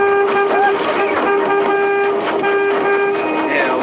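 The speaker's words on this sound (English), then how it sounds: "The tour leader immediately honks his horn to get the group back in the van." A tour van's horn honks as a tornado approaches, giving a steady, sustained blare that runs through the whole moment, with people talking loudly over it.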